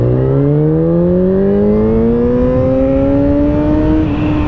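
A Yamaha XJ6 four-cylinder motorcycle accelerates hard in second gear, its engine note rising steadily and smoothly in pitch, loud and close throughout with no talk.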